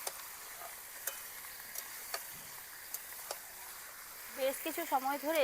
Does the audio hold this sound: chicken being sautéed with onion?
yes